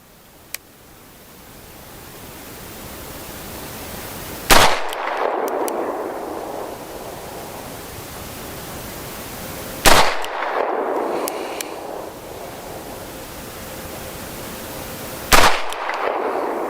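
Ruger GP100 revolver fired double action at a target about 21 yards away on a cold outdoor range: three loud, sharp shots spaced roughly five seconds apart, each followed by a brief rumbling echo.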